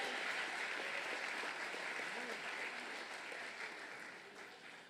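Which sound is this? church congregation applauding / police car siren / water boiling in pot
church congregation applauding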